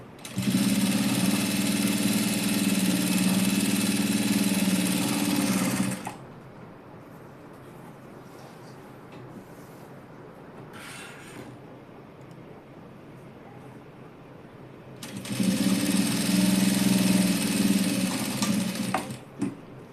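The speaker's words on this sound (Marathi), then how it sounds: "त्याच्या शेजारून शिलाई मारून घ्यायची" An electric sewing machine stitches a cut-side dress, running in a loud steady burst for about six seconds, falling quiet, then whirring again for several seconds near the end.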